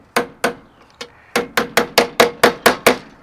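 About a dozen sharp, ringing hammer blows flatten a bent steel bracket on a Freightliner FLD truck. A few spaced strikes come first, then a steady, even run of loud, close blows.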